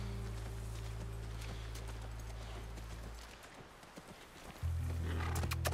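Horse hooves clip-clopping in The Last of Us on PC, a steady rhythmic clatter of hoofbeats over a low droning game score that dips midway and then swells back.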